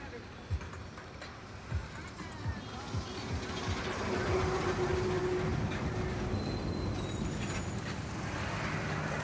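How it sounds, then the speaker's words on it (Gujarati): A train from Bhuj bound for Delhi passes near Dhanera railway station, a steady rumble with faint rail clatter building and holding, and voices talking underneath. "ભુજથી ટ્રેન દિલ્હી જવાવાળી જઈ રહી છે."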